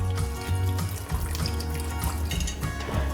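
Half a cup of water poured into a slow cooker of sausage and vegetable soup, a short close splashing pour over a steady low hum, with no voices.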